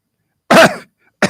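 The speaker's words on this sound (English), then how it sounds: "All these coughs seem to happen when he's talking about either healthcare or pollution." Two sharp, close coughs from someone at a political speech, one longer hacking cough followed by the start of another after a short pause.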